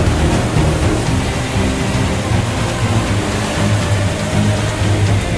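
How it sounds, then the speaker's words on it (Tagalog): Heavy rain pours down in a long overnight downpour, a dense, loud, continuous roar of water drumming on surfaces with low rumbling underneath. "Halos magdamag na yung ulan eh."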